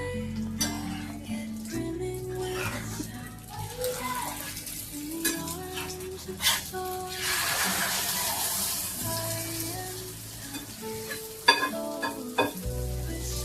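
A cheese omelette frying in a pan over low gas gives a steady soft sizzle throughout, with occasional clinks and scrapes of utensils and a brief louder knock near the end.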